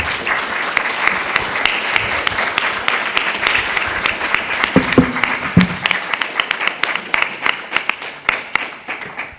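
An audience at BronyCon 2013, a fan convention, breaks into applause, a dense roar of clapping that loosens into separate, sharper individual claps as it fades out.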